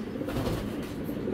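A first-class racing pigeon gives a brief, soft, low coo close by against a steady background murmur.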